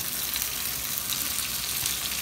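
Peppers and onions sizzle steadily in a hot pan for an omelette, a dense, even frying hiss that continues alone without pause.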